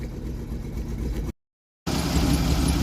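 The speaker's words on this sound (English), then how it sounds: "You can hear our exhaust leak, which it's always had." A 2006 Dodge Durango 4x4 engine idles steadily with a rough, raspy rumble from an exhaust leak, briefly cutting out before resuming at the same even level.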